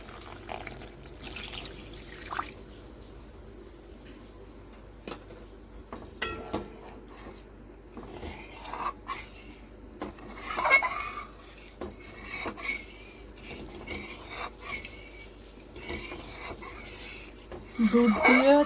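Milk stirred into a cashew and poppy seed paste in a pan for shahi paneer, scraping and rasping of a spoon against the pan in irregular bursts with occasional clinks, close up, with no talk.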